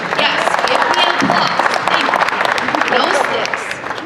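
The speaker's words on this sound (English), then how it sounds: "applause." Steady applause from an audience at a Lantern Festival, dense clapping sustained throughout at even loudness, with crowd noise mixed in.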